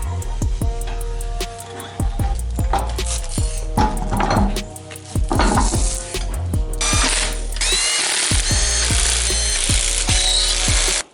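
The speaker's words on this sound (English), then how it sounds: "we gotta torque that big nut down real quick" Wrench ratcheting repeatedly on a big nut of a Nissan S13 steering rack, with rapid metallic clicks in quick strokes and brief pauses, close up, then a denser burst of clicking near the end.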